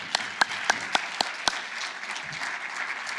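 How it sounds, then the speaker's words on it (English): Conference audience at LibertyCon applauding the speakers: a few sharp, close individual claps at the start over a steady wash of crowd applause that continues to the end. "Let's have another round of applause for all our fantastic speakers this weekend"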